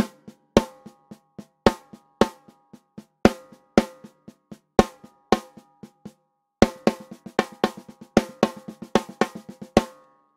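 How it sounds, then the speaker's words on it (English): Drum rudiment double paradiddle on a kit, sharp stick strokes in six-note groupings with accents, played close and clear with brief pauses between phrases, then a denser run. "This is called a double paradiddle."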